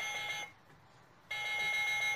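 A digital LED wall clock's alarm rings indoors as a steady electronic tone that cuts out briefly and then resumes at the same level, with no voices.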